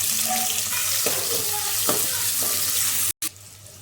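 A pinch of cumin and finely chopped onions hit a little hot oil in a home kitchen, giving a steady, close sizzle with a few soft stirring scrapes and a brief cutout near the end.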